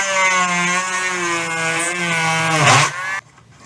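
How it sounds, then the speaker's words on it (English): A Dremel rotary tool whines at a steady high pitch while drilling out old capacitor holes in a 1936 Bush battery radio, dipping briefly under load near the end before cutting off abruptly. "I'll try using my Dremel."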